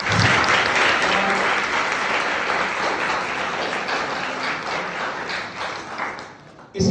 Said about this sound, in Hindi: फिर से तालियों से करें।